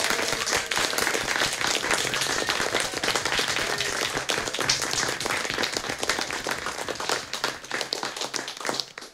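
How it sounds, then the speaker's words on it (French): A congregation at an evening Compline service gives sustained applause for healthcare workers. The dense, steady clapping fills the space loudly for about nine seconds and then tapers off at the very end. "Nous vous applaudissons,"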